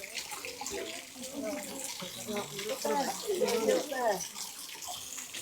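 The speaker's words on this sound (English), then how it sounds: "looking at the fountains from a different angle now, they're starting to go" Garden fountains at Alfabia Gardens in Mallorca spray and splash steadily in the open air, with a continuous watery rush while people talk nearby throughout.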